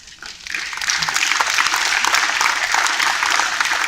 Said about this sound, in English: You hear those people clapping?